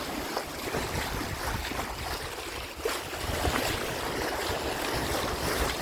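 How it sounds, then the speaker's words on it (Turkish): Out on the Pacific Ocean from a sailing boat, wind and rushing waves make a constant broad roar, loud and close, with no voices over it. "Burası Pasifik Okyanusu."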